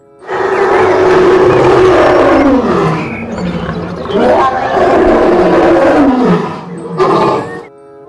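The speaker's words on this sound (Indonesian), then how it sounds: "Yang ini hewan singa." A toy lion gives a loud, drawn-out roar that swells and fades in several long surges over about seven seconds, with no talking.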